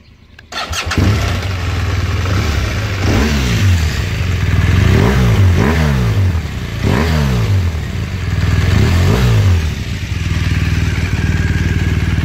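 A BMW R1200RS motorcycle engine fires up close by and settles into a steady idle, then gets blipped through a series of short, repeated revs that rise and fall before it returns to idle.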